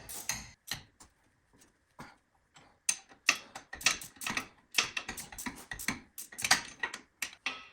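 A ratcheting gear wrench clicks on the caliper bolts of a 5th-generation Toyota 4Runner, sharp close bursts of rapid ticks separated by brief pauses, growing denser toward the end.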